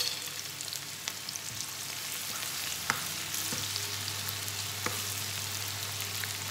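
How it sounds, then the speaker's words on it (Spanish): Carrot, garlic and mixed vegetables with a spoonful of salt sauté gently in a pan, a quiet continuous sizzle broken by a few light clinks and stirring taps, no speech. "Vamos a dejar todo esto, que se poche un poco"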